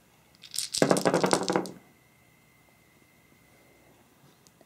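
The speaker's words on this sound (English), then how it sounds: "So I'll roll my 13 dice." A handful of 13 dice for the Martian Dice board game tumbles onto a table in one quick clattering rattle lasting about a second. Quiet stillness follows.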